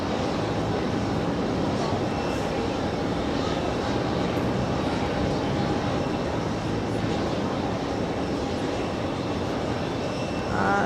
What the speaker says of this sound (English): an A321 American Airlines departing right behind the